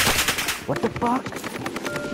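Rapid gunfire bursts in a frantic online shooter match, sharp repeated cracks mixed with game effects while players shout and talk over the shooting.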